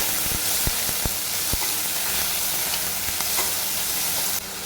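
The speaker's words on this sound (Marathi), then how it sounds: "मीडियम साईजचे दोन कांदे बारीक कट करून घेतलेत आणि हे आता आपल्याला छान सोनेरी रंग येईपर्यंत परतून घ्यायचे" Finely chopped onions, two medium ones, sauté in hot oil for a rajma curry, giving a steady close crackling sizzle with a few sharp spoon scrapes against the pan. No one speaks.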